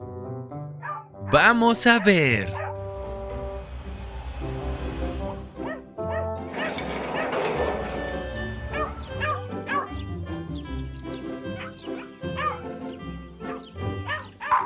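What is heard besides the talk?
cartoon puppy barking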